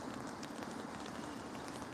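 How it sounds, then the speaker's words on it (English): Steady rain falling at a lakeside beach park with a wave deck on an evening walk, heard as a continuous soft patter and hiss with no voices. "So looks like rain is picking up"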